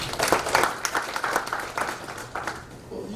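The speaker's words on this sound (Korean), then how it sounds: "박수 한번 쳐주시죠." Audience applause at a commemorative lecture in a church setting, a steady patter of many hands clapping close by for about three seconds, fading slightly toward the end.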